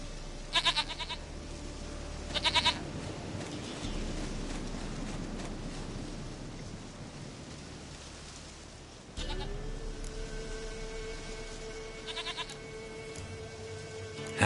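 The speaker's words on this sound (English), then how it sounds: "Goat of mine, dearest, sweetest goat." Goats bleat in The Witcher 3 over a steady windy outdoor ambience, with short wavering calls repeating at several points, moderately close and clear.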